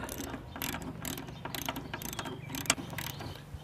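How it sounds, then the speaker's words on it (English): A box end wrench ratchets rapidly while tightening a nut on a lawn mower blade, a close, fast metallic clicking that continues without pause. "I'll hold the back nut with my box end wrench and tighten it up."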